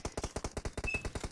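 A sustained burst of M416 assault rifle fire in the PUBG mobile game: about a dozen rapid, evenly spaced shots rattle out in quick succession, crisp and fairly loud.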